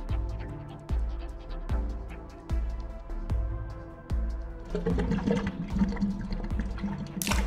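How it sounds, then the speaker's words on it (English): Water sounds in The Cat Lady video game: a series of regular, evenly spaced liquid drips or splashes, then a rushing flush-like surge of water near the end, fairly close and clear with no talk. "Oh, water."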